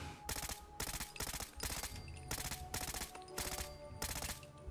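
Automatic gunfire in the video game Fallout 4 rattles out in about eight rapid, loud bursts separated by brief gaps, close and dominant.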